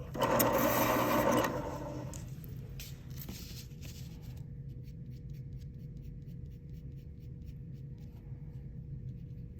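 A pencil being sharpened at an artist's drawing table, a loud grinding burst for about two seconds that stops, followed by faint clicks and a quiet hum.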